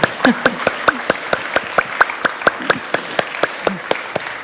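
Scattered applause from a church congregation at a livestreamed service, celebrating a new baby: a few dozen evenly spaced claps that ring out fairly close and steady, with a voice briefly heard underneath.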